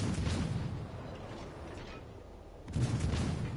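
Warship main-battery salvos in World of Warships Legends, a loud booming blast at the opening that rumbles away, then a second heavy report near the end, with no talk over them.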